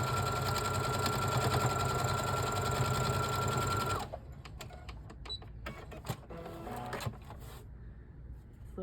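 Sewing machine stitching Jacob's ladder quilt pieces runs with a fast, loud, steady mechanical whir for about four seconds, then stops, leaving scattered clicks and handling noises.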